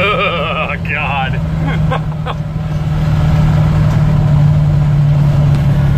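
A truck engine rumbles steadily up close and its pitch climbs as it pulls through the gears, while a voice talks briefly over the opening seconds.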